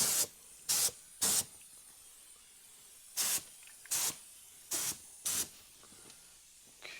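Short bursts of air spray gun hiss while door jambs of a 1957 Chevy are painted with cheap red tractor paint, seven separate sprays in uneven groups, close and loud over quiet background.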